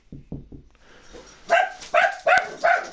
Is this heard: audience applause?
no